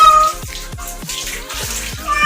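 An Angora cat meows repeatedly in short, insistent cries while being bathed, with splashing water beneath the calls, close and loud.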